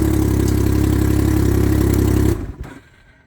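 A Can-Am Ryker engine runs after a new battery install with a loud, steady idling rumble, then shuts off abruptly and fades to quiet near the end.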